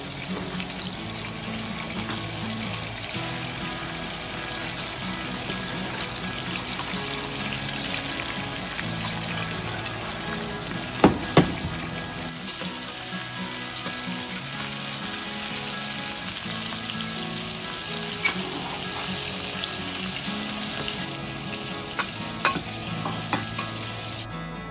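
Southern-style fried potatoes sizzling steadily in a pan while a spatula scrapes from the bottom and flips them, with a constant crackle, scraping strokes, a few sharp clacks near the middle, and a brief water-like rush.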